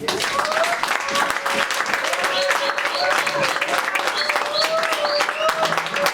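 A church congregation claps and cheers to acclaim the Lord, with loud, dense applause running steadily throughout and voices rising over it.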